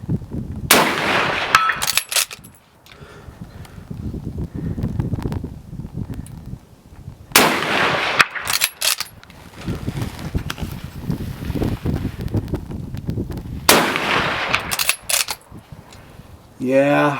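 A Lee Enfield No. 4 Mk2 rifle firing .303 rounds at an outdoor range, with three loud, sharp shots spaced several seconds apart, each followed by reverberation, between stretches of wind and handling noise.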